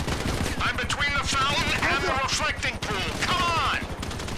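Rapid bursts of gunfire in GTA 5 crackle over a dense, busy game soundscape, with repeated shots and sharp chirping effects running loud and continuous throughout.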